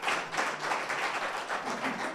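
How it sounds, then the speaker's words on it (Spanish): Audience clapping, a dense patter of many hands at moderate distance, steady throughout. "Un aplauso, por favor, a todos ellos que nos ayudan"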